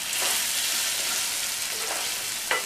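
Masala spice powder sautéing in a kadai for egg Maggi noodles. A strong, steady sizzle is heard close up, with a few scraping stirs near the end and no speech.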